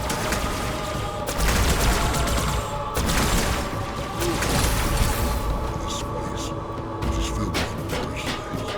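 Continuous gunfire from a carbine and other weapons in a Halo 2 firefight against the Flood, dense and sustained across the whole stretch with overlapping bursts and crashes.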